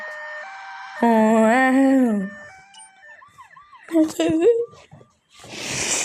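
A wailing ambulance siren from the video game GTA 3 rises and falls, then gives way to shorter electronic tones and a burst of hiss, with a voice shouting over it.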